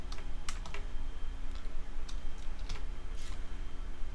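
A computer keyboard clatters with quick, irregular bursts of keystrokes over a low steady hum, close and moderately loud, with no speech.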